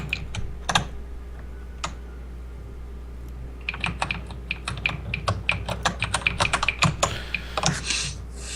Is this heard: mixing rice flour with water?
no